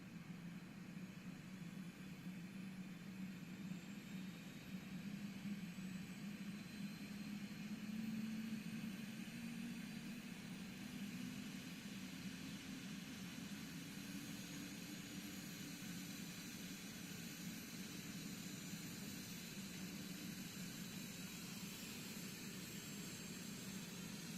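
A helicopter engine idles inside a VR flight simulator on a flight from Colorado Springs to Broomfield, giving a steady low drone with a constant whine on top that holds at an even level throughout, with no talking.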